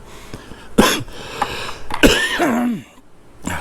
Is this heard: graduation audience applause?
no